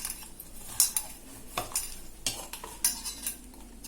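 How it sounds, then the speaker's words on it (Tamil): A spoon scrapes and clatters in a pan as eggplant is stirred and mashed, steady and close with occasional sharper knocks. "இதை நல்லா பசைஞ்சுக்கணும்"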